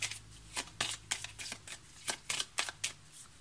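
Tarot cards being shuffled and cut by hand, a quick series of about a dozen crisp riffling flicks, close and quiet with no voice over them.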